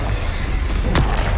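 A Confringo blasting spell bursts in Hogwarts Legacy as one short, heavy boom in the middle of loud, dense game noise.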